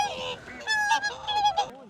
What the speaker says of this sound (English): But I'm just so surprised to see so many swans here.